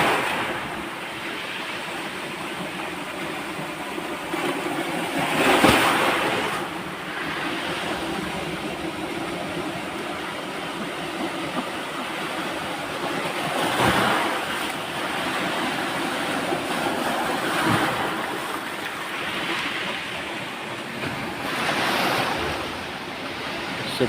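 Ocean surf breaking on a shore during a spearfishing outing, a continuous roar of water with several heavier wave crashes swelling up at intervals, some wind mixed in and no voices.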